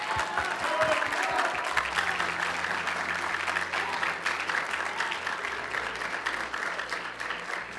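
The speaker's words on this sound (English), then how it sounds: "Let's give him a round of applause for that." Sustained applause from a crowd at a high school military signing ceremony, steady clapping filling the space for several seconds with no pause.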